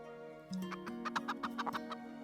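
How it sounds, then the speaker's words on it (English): Chickens on a farm in the medieval city-building game Lords and Villeins give a run of short clucks and scratchy pecks over a steady low tone, faint and fairly distant with no talk. "All the chickens."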